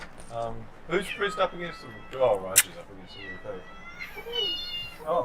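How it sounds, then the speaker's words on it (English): A cat meows several times, close and clear, amid overlapping conversation from a few people. "That was a cat."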